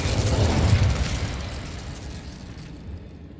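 An Incendio fire spell cast in Hogwarts Legacy, a loud whooshing, rumbling burst of flame that swells quickly and then slowly dies away.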